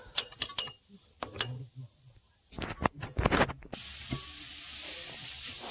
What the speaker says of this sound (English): with silicone spray, we're going to get deep in here and spray all that